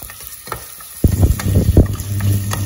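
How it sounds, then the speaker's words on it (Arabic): Chopped onion hits hot olive oil in a pan, and a quiet start gives way to a loud, close, crackling sizzle with stirring scrapes that continues steadily. "في الطاوه اللي غنطيب فيها غندير شويه ديال الزيت بلديه انا ديما كنديرها الزيت بلديه غنقلي البصله نشحرها مزيان"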